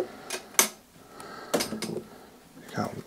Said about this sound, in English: This drawer is tough.